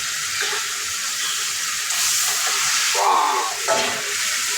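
Goat meat sizzles loudly in a hot pan as it is stirred, a steady close frying hiss with brief bursts of louder crackle and scraping partway through.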